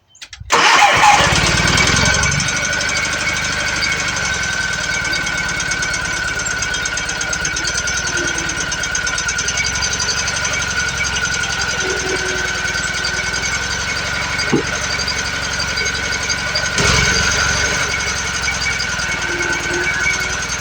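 A diesel tractor with a homemade front-end loader and hydrostatic drive starts up and settles into a steady, loud rumbling idle with a constant whine, with occasional faint knocks and clunks.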